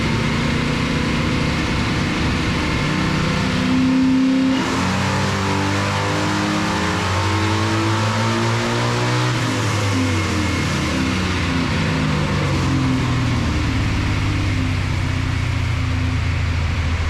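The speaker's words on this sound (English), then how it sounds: "We just got it loaded on the dyno and make a pull." Big block Chevy engine in a 900+ horsepower 1969 ZL1 Camaro race car on a dyno, loud and close, idling roughly then revving hard with rising and falling engine pitch throughout a long pull.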